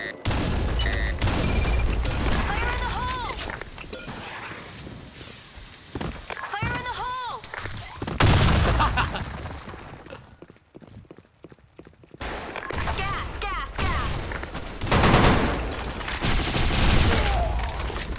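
A grenade blast and gunfire in the shooter game BlackShot: dense, loud, sustained bursts of shots and booming impacts, with voices calling out over the battle.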